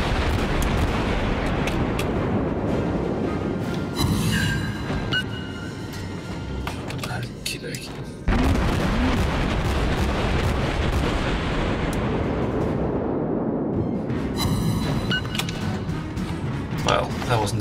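Warship main guns roar in World of Warships, heavy booming salvos over a dense, continuous rumble of battle noise, loud and sustained, with sharp blasts near the middle and again toward the end.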